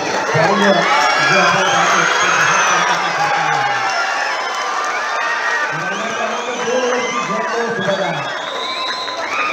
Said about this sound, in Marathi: अत्यंत जबरदस्त जल्लोष